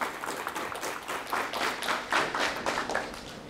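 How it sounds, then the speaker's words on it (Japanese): Audience at a disability awareness week symposium applauds the panelists: steady, moderately loud clapping from a hall full of people, sustained throughout with no talk. "シンポジストの皆さんに拍手をお願いして終わっていきたいと思います"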